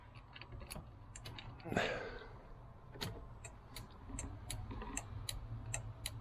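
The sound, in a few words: flashing indicator relay clicking in VW Vanagon T3 after LED upgrade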